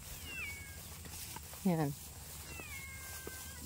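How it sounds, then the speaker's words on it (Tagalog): Pet cats meowing on a rural Philippine farm, with a few thin meows and one louder, closer meow midway over steady outdoor background noise, while a person speaks nearby. "Ng aming alagang pusa. Gustong gusto magsama sa amin."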